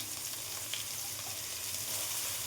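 Vegetables fry in hot oil just after nigella seeds have been tempered, giving a steady close sizzle and crackle throughout, with no talk.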